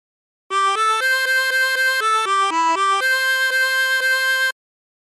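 Harmonica playing a phrase of She'll Be Coming Round the Mountain using bends, a steady run of about a dozen connected notes that shift in pitch, loud and close with no talking.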